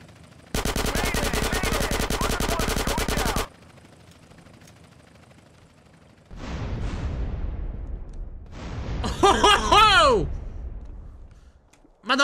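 Bursts of rapid automatic gunfire aimed at a plane in GTA San Andreas: a long sustained volley, then a pause, a second stretch of firing and a louder burst near the end, with occasional player talk between.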